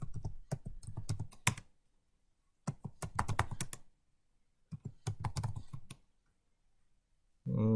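Bursts of rapid clicking keystrokes on a computer keyboard as a username is entered during Ubuntu setup on Windows 10, three short flurries separated by pauses, close and clear with no talking, a brief tonal sound at the very end.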